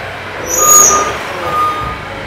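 A heavy truck engine rumbles steadily as the vehicle drives forward, the sound swelling twice, with thin high tonal beeps and a hiss of air over it and no talking.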